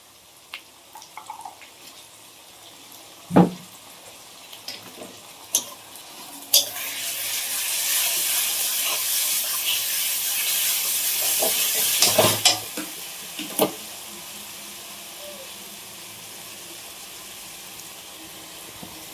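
Ginger, garlic and green chili paste dropping into hot oil for a chicken and potato curry, giving a steady broad sizzle that swells midway, with a few sharp clatters of a spoon or pan standing out.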